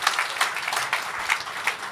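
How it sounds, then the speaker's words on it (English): Lecture audience applauding in a hall, a brief burst of clapping from a crowd, fairly even and moderately loud with some distinct individual claps. "Can I get a big round of applause if you think this is amazing?"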